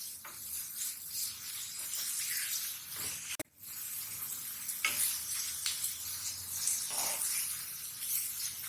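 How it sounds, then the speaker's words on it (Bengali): Dried fish frying with banana flower and spices, an even, fairly quiet hiss of sizzling oil with a few soft stirring scrapes and one short break, no voices. "মশলার ভিতরে শুটকি আর কলার মোচা দিয়ে কিন্তু বেশ ভাজা ভাজা করতে হয়"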